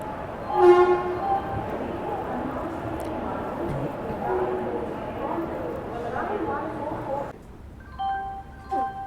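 A Magadh Express train pulls out of Kanpur Central railway station after a ten-minute stop, with a steady rumble of rolling wagons and a horn-like tone near the start, ending in higher whining metallic tones as it gathers pace.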